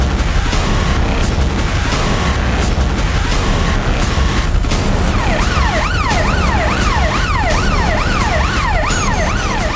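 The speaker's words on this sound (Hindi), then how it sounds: "4 एम्बुलेंस पीछे और आ रही है।" An ambulance siren wails in rapid up-and-down sweeps, loud and close, entering partway through over constant rumbling road noise and sharp clicks, with no speech.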